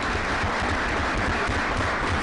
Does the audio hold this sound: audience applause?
yes